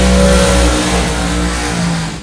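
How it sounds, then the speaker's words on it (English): Drag racing cars at an ANDRA Summit Sportsman Series meet in Portland do tyre burnouts. Loud engines roar and rev at high pitch with a sustained screaming drone, easing off slightly toward the end. "both go through their burnouts"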